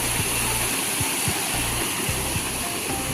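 Steady rushing of water pouring from a village spring outlet in the Konkan during the rains, a continuous broadband splash with low thumps underneath, fairly close.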